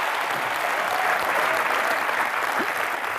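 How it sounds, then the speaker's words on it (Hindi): Studio audience on an Indian comedy talk show bursts into steady, loud applause, dense clapping filling the room for a few seconds with no voices over it. "हमारी कंजूसी और कंगना के सेंस ऑफ ह्यूमर के लिए जोरदार तालियां।"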